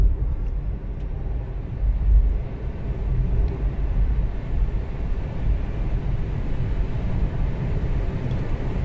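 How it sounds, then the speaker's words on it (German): A VW e-Up electric car pulling away at full throttle, heard from inside as a steady low rumble of road and motor noise that stays fairly even, with no talking. "Jetzt gehe ich mal Vollgas."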